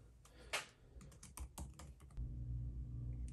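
Keys clatter on a MacBook Air M2 keyboard as an Apple ID password is typed, a quick irregular burst of close, crisp clicks followed by a low steady room hum.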